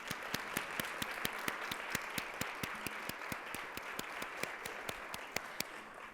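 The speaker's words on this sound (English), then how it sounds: "Let's give all of them a round of applause." An audience at a Columbus Metropolitan Club panel event applauds the panelists, a sustained, fairly distant wash of clapping with a few sharp individual claps standing out.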